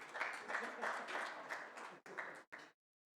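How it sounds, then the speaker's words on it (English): A conference audience applauds in a dense, fairly loud burst of clapping that carries on steadily, then breaks up and stops abruptly, with no voices over it. "a huge round of applause"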